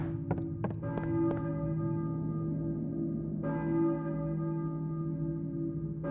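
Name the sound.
church bell ringing in Silent Hill video game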